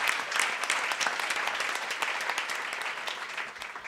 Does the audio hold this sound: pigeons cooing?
no